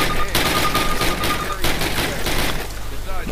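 Rapid automatic gunfire in the Call of Duty video game, dense bursts of shots crackling loudly and continuously, close and overpowering, filling the whole stretch.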